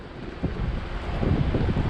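Strong, cold wind roars and buffets the microphone during a ride, a loud, continuous rushing noise with gusty swells.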